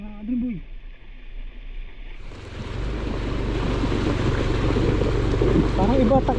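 Water rushing over a shallow river crossing near a dam in Tanay, Rizal, rising after a short pause into a steady broadband roar that swells and stays loud and close, with a voice speaking briefly at the start and end.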